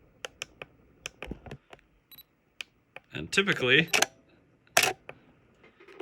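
Canon EOS DSLR camera autofocus beep and shutter click, heard as a few sharp short clicks and a brief tone close by, alongside a person talking.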